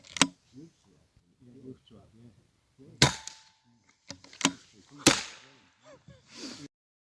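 A Daystate Red Wolf air rifle fires JSB 8.44-grain pellets from its magazine at 35 yards, giving three or four sharp, loud cracks spaced a second or two apart while someone talks between the shots.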